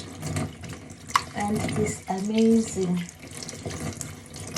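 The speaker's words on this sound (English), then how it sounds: "cold tap water. So I'll wash the spring onion thoroughly." Spring onions are washed under a running cold kitchen tap, with water splashing and gurgling close by in a steady flow while a person talks over it.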